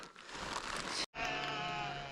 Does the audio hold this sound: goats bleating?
yes